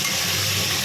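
Spiced mutton curry seasoned with turmeric and salt sizzles as it is stirred in a pan, giving a brief, steady hiss with a faint scrape.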